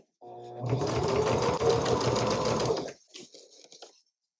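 A sewing machine stitches through thick, stiff layers of a batik quilt in one fast, steady run of close, loud needle clatter lasting under three seconds, followed by a few softer knocks as it stops.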